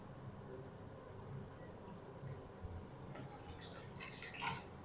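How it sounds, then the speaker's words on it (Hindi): Water is poured into simmering moong and masoor dal in a pot, heard as a faint, brief splashing and trickling in the second half over a quiet kitchen background. "1 कप पानी मैं इसके अंदर और शामिल करूँगा"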